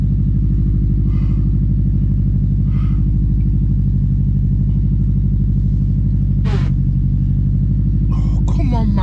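A Subaru GC8 track car with a faulty clutch idles with a steady, loud, low engine rumble, while a few short speech sounds and clatters come through over it.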